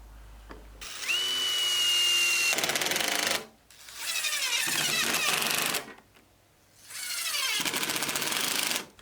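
A power drill drives screws into wooden cleats in three separate bursts, each loud and close with the motor's whine rising as the screw seats, and short quiet pauses in between.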